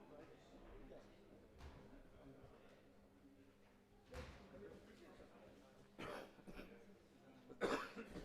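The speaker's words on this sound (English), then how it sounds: "Smoker's cough." A few scattered coughs break out among quiet background talk at a snooker match, with a louder, harsher smoker's cough near the end.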